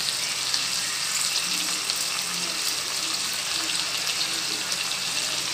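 Onion and tomato sautéing in a pan for brinjal kulambu make a steady, hissing sizzle that runs evenly for several seconds, fairly loud and close, with no talking over it.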